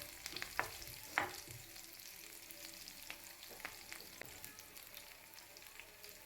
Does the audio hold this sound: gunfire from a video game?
no